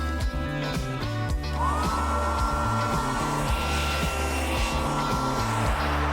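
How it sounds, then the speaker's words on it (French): Hair dryer blowing on a freshly applied lip tattoo, a steady whooshing hum with a rising whine kicking in partway, loud and continuous with a rhythmic low thumping beneath. "Je vais le sécher avec mon sèche-cheveux."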